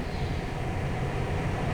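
A train rolling past in a snowy town during a lake-effect snowstorm, a continuous broad rumble and roar at steady loudness, fairly close, with no talking.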